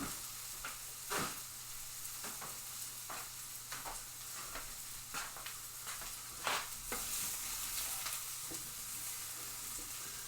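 Bolognese sauce fries in a pan with a constant close sizzle, broken by repeated scraping and clacking strokes as it is stirred at an irregular pace.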